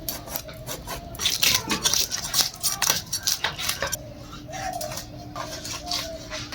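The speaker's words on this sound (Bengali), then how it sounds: "চলুন মাছটা কেটে নিই।" A knife cuts and scrapes through small sarputi fish, giving dense, rapid rasping strokes and metallic scratches up close, with a brief tonal hum in the later part.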